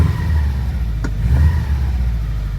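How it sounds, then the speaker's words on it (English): A 2005 Saab 9-2x Aero with a Borla Hush exhaust, engine cold, revs briefly near the mic, a steady low engine drone with a quick blip partway through, alone with no talking. "That is the sound of the Borla Hush exhaust."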